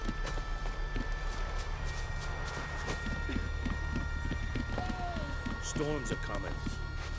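Horse hooves clip-clop at a steady walking rhythm in the video game The Witcher 3, close and continuous beneath game ambience, with voices talking and a brief whinny-like call near the end.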